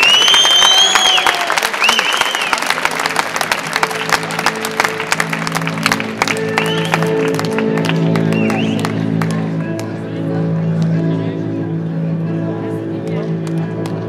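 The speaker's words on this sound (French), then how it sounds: "j'aimerais qu'on les applaudisse très fort," Audience applause honoring defenders at a medal ceremony, dense clapping loud at first and thinning out, with a tonal hum and faint voices underneath.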